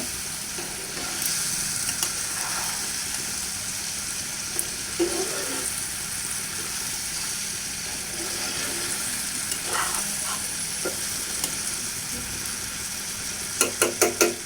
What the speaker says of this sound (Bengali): আমি আলু আর টমেটোটাকে একটু ভালো করে কষিয়ে নিচ্ছি